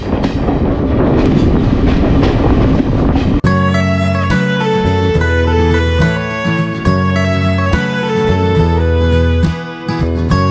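The 12311 Netaji Express pulls out of Etawah station in First Class, its steady rumble and clatter loud at first, then carried on beneath music.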